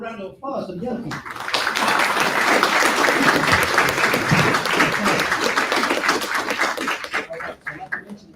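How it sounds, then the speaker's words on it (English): An audience at a public meeting breaks into applause, a dense burst of clapping that swells, holds for several seconds and then thins out, with voices at the start and end. "give them a round of applause for the young people."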